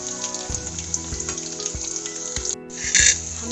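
Onion pakoras deep-frying in hot oil, a steady close crackling sizzle with small bubbling pops, under light background music and with no talking.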